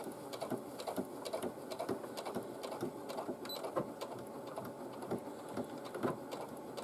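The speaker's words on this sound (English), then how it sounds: "I carry on stitching down" A sewing machine stitches down a tote bag pocket, giving a steady, fast, rhythmic mechanical clatter at moderate level with no talking.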